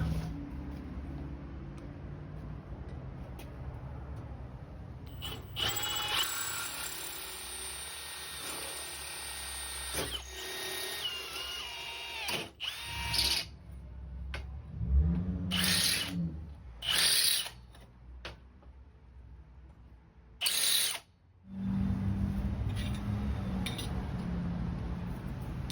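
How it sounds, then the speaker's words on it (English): Power drill boring out a row of holes to 5/16 inch for the pivots of a bench grinder tool rest, running in several bursts of whirring and grinding with brief pauses and clicks between them, close and fairly loud. "I'm going to enlarge all these holes to 5/16."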